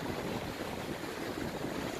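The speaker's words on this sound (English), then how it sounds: "It's already getting windy." Steady broadband wind rushes and buffets the microphone in the San Gabriel Mountains' East Fork canyon, a constant roar with no pauses or voices.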